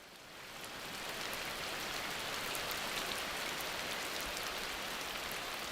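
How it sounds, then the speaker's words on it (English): Heavy rainy-season downpour in the Amazon rainforest, a dense hiss of rain that swells in over the first second and then pours steadily and loudly with no voices. "For many animals, the daily downpours of the rainy season provide a welcome break from the stifling heat of the dry months."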